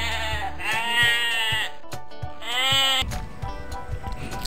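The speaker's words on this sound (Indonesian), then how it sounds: "Selanjutnya kita memasukkan domba yang berwarna putih dan memiliki punggung" A white sheep with a yellow back bleating loudly and close, two long wavering bleats separated by clicks and knocks, then rustling noise.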